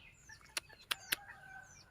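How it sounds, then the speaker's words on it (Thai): A bantam chicken, a small ornamental fowl, makes faint clucking calls with three sharp, close-up bursts in quick succession over a quiet background. "ไก่แจ้ตัวนี้สวยงามมากเลยค่ะ"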